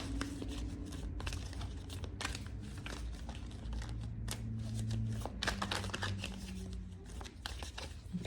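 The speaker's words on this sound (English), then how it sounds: "I do not know how to shuffle, but it's okay." Tarot cards are shuffled and riffled in quick crisp bursts, close up, with faint low room noise underneath and no speech.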